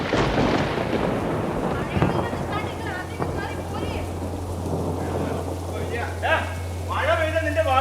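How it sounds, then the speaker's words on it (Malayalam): Steady rain pours with rolling thunder rumbling underneath, loud and continuous, while voices speak over the storm. "മഴ പെയ്ത നിന്റെ ഭാഗ്യം."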